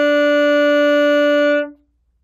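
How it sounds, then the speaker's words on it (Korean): A single sustained saxophone note played with a deep bite on the mouthpiece, held steady and loud for about a second and a half before it cuts off, with no other sound around it. "깊게 소리를 내게 되면 이런 소리가 납니다"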